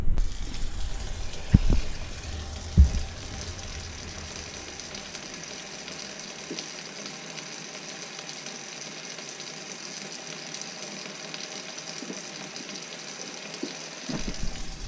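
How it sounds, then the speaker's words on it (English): A tap runs steadily, a constant hiss of flowing water close by, with a couple of clunks near the start and end. "Got the water running here."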